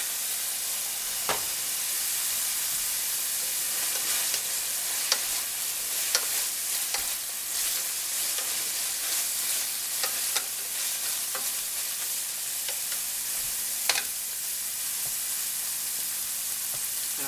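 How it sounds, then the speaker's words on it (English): Sliced onions sauté in a pan for a steak dinner, a steady close sizzle broken by occasional sharper clicks of stirring, with no talking. "Nothing like the smell of sauteed onions"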